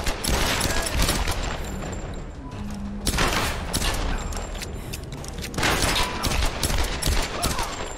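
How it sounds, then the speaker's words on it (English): Sustained bursts of gunfire from enemies shooting at the player in the video game Tomb Raider, dense and loud for the whole stretch, with a brief lull near the middle before the volleys pick up again. "who the crap is shooting at me?"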